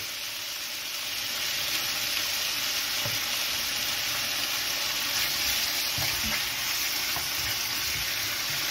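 Strips of squid sizzle steadily in a frying pan, a close, continuous hiss with small crackles and an occasional soft stir, with no voices.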